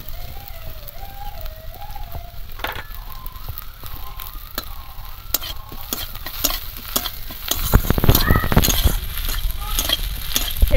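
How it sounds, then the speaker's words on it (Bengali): Sliced onions with five-spice seeds sizzle steadily in a hot pan while a spoon stirs and scrapes, the frying growing louder and busier toward the end, with no talk. "পেঁয়াজ হালকা করে ভাজা ভাজা হয়ে গেছে, এবার এর মধ্যে আমি দিয়ে দেবো 5 ফোড়ন"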